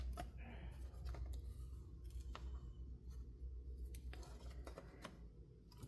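Scissors trim fabric on a junk journal cover made from a Little Golden Book, with a series of faint, quiet snips and small crisp clicks close by.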